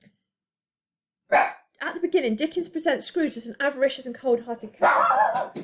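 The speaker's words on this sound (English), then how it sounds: "Apologies for the barking" A dog barks sharply a couple of times, clear and close, mixed in with steady talking from a single voice.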